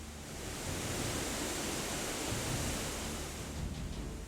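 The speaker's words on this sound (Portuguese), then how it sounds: "144 metros de queda d'água, um paredão imponente." The 144-metre Cachoeira da Fumaça waterfall in a state park on the Itapemirim river roars as a steady, dense broadband rush of falling water, loud and continuous throughout with no voices.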